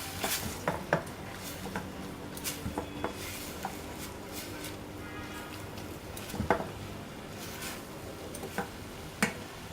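Spices being mixed into chicken filling in a pan, with irregular clinks and scrapes of a utensil against the metal over a steady sizzle-like background, close up, with no talking.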